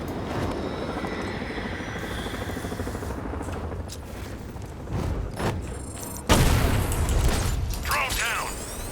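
A hostile drone in Batman: Arkham Knight hums and whirs steadily, with rotor-like mechanical droning throughout, then a loud burst and heavier rumble near the end.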